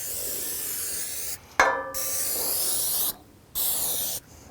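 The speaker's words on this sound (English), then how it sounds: "So we just spray a little bit of olive oil is what we're after." A few short hissing bursts of sprayed olive oil mist onto trays of soil samples, with a brief click from the sprayer between steady sprays.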